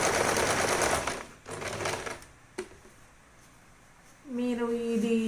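A sewing machine stitches a fabric scrunchie in a fast loud run that stops, with a softer second burst and a click, then a tonal whir starting up near the end.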